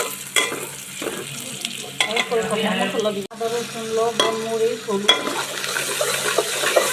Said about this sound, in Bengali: মশলাটা কষায় ভালো করে